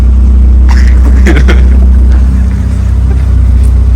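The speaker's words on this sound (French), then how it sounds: "éteins ton moteur parce qu'on n'entend rien" A loud, close Peugeot 206 engine, a 1-litre, idles with a deep steady rumble, while a few faint clicks and knocks sound over it briefly.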